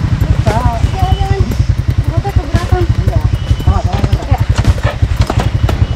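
A motorcycle with a passenger aboard climbs a steep rural road in Aceh Jaya, its engine pulsing in a rapid, steady, loud rhythm close by, while people talk over it throughout.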